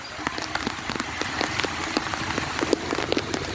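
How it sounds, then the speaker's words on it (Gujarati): Monsoon rain patters steadily on a surface outdoors, a dense hiss of scattered drops with sharper individual splats, moderately close and without voices. "એનિવર્સરી દિવસે આવડો વરસાદ આવ્યો"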